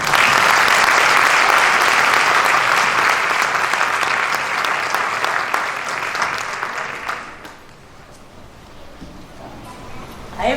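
Applause from the audience at a board of education meeting, full and continuous for about seven seconds before thinning out to a quiet room, with a brief swell at the very end.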